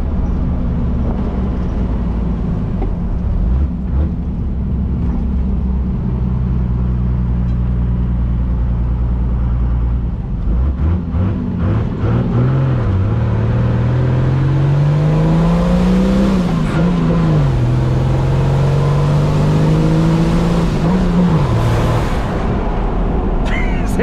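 Chevrolet Silverado with a 400 hp six-cylinder MWM turbo diesel pulling hard, a loud, close engine roar rising in pitch through the gears with brief dips at the shifts and a whistling climb toward the end.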